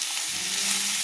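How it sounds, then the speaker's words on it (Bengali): Potatoes sizzle in hot oil on a high flame, a steady bright hiss of frying with a faint stirring rumble underneath, close and continuous. "তেল দিয়ে আলুটা নেড়ে নিচ্ছি।"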